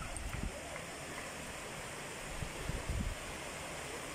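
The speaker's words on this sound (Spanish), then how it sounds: "Esta otra cascada, miren." Waterfall at Vado Hondo in Cosalá, Sinaloa, a steady, even rush of falling water heard from nearby, with faint bumps and handling noise and no talking.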